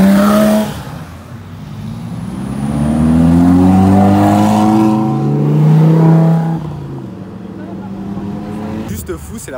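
An Audi R8 V10 sports car engine revs loudly nearby, rising and falling in pitch across two swells of acceleration before easing off.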